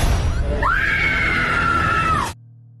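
A woman screams in an Indonesian horror film, one long, loud, sustained shriek that rises, holds steady for well over a second, then cuts off abruptly into near silence.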